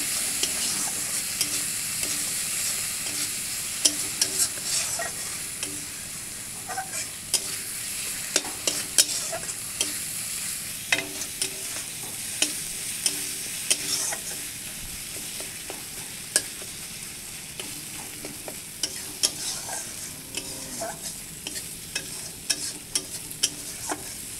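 Spices with ground cumin frying in oil as they are stirred, a continuous close sizzle broken by frequent sharp scrapes and taps of the spoon against the pan.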